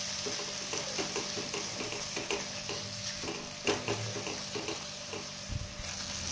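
Dark black masala paste for a rustic eggplant curry being sautéed in a pan, giving a soft, even sizzle with light scraping stirs and occasional taps, fairly quiet and without talk.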